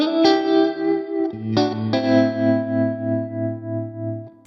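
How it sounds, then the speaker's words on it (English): An electric guitar, a Strat-style guitar played into a Fender Tweed Deluxe amp, plays sustained chords with a pulsing tremolo wobble and a reverb tail, each chord ringing out cleanly. "I'm playing this Momose Strat style guitar into a Fender Tweed Deluxe with some reverb"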